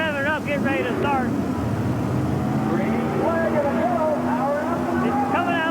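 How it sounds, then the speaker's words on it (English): A racing engine at a pulling event in Houston roars at wide-open throttle, a loud, steady drone with rising pitch sweeps, heard under an excited announcer's commentary and wind noise. "He's coming out of the hole, getting on the throttle. Now he's got her wide open"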